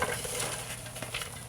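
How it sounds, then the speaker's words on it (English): Onions frying in hot oil in a pan, left untouched, give a soft steady sizzle with light crackling pops close by, alone with no voices. "after we pour the onions into the oil, we have not touched it. It's frying and it's sort of spread out on its own."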